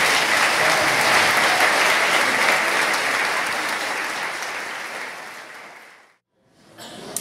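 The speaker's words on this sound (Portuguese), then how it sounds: "Vamos dar uma salva de palmas para Jesus?" Loud, sustained applause from a large church congregation that gradually fades, drops to silence, then briefly picks up again near the end.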